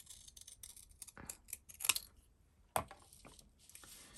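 Scissors snipping through cardstock to trim a card sentiment for a crocus card, a few separate crisp cuts spaced apart, close and fairly quiet.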